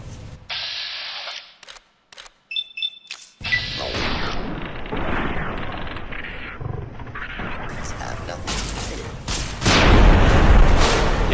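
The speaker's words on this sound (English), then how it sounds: "you gotta watch out those extra explosions" Explosions in Fallout: New Vegas Old World Blues DLC, with heavy booming blasts and crashing debris rumbling through the later part amid game effects, loud and close, with a voice talking over them.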